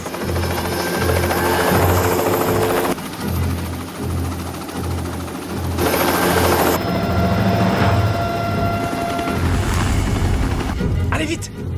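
Helicopter preparing to land in a film scene, a loud, steady rotor thump with a continuous engine whine filling the whole stretch, with voices briefly present.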